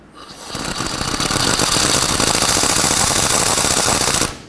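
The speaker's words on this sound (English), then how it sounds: "let's grab a 14mm and tighten this up." Impact gun tightening a sway bar link mounting nut with a 14mm socket on a 1997-2003 Ford F-150: one loud, close, continuous hammering rattle that lasts about four seconds and then stops abruptly.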